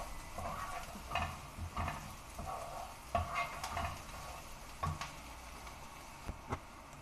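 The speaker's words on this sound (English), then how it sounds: "Keep stirring the onions in a medium high flame" Onions stirred and fried in a pan over a medium-high flame, a steady close sizzle broken by repeated scraping strokes of the spoon at irregular intervals, with no voices.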